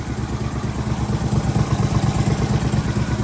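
A 23hp Briggs & Stratton Vanguard engine fitted with quiet mufflers runs at a steady idle nearby, giving a continuous low, even rumble with a slight clatter and no revving.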